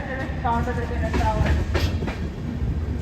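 Prasanthi Express train running, heard from inside a second AC coach: a continuous rumble with rail clatter throughout, and brief faint voices mixed in.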